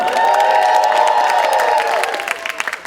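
An audience cheering and whooping at the Beantown Revue 2024 show, a loud, sustained burst of voices that tapers off with scattered claps near the end.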